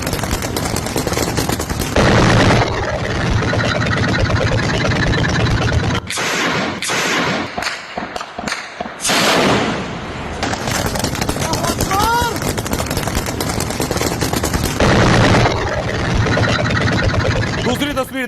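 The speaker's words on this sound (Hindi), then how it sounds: "ये सीरिया में जो जंग हो रही है, जो गोलियां चल रही हैं" Gunfire from the war in Syria, sustained and loud, with bursts and heavy impacts running through most of the stretch, laid under a commentator's continuous talk.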